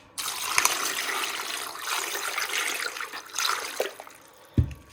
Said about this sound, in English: Give these guys a quick rinse.